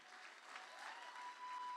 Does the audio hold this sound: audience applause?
yes